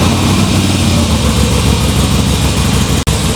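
A car engine idles steadily, loud and close, with a dense, constant rumble and no clear start, broken by a brief cut near the end.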